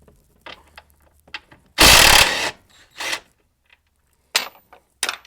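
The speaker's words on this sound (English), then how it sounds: "next we're going to take these bolts out" A ratchet clicks in several quick bursts while dash bolts come out of a 2014 Ford F150, with one long loud run of rapid clicking and shorter bursts after.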